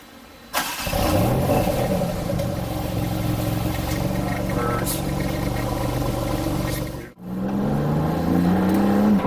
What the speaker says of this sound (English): It's got really loud turbo noises.